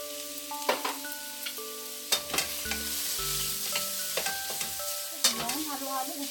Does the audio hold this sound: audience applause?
no